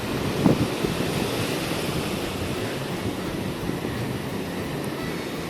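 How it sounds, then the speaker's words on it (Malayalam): Rough sea waves roll in at Palolem beach in South Goa during high tide. They form a steady, unbroken wash of surf with a windy rumble across the microphone, and no one speaks. "കടൽ അത്ര ശാന്തമല്ല"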